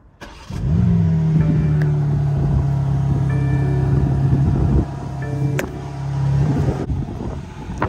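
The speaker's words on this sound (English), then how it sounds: "being stock, the exhaust is obviously pretty quiet, but it still sounds pretty good" A BMW M240i with its stock exhaust cruises along in a steady drive, a low droning engine note holding mostly even with a brief shift, wind buffeting the microphone throughout.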